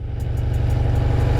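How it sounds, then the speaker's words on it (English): A Yamaha VMAX motorcycle, barely used in thirty years, idles on full choke while warming up, a steady low rumbling engine note held close and loud without revving, no voices. "let the bike warm up slightly, don't give it any revs"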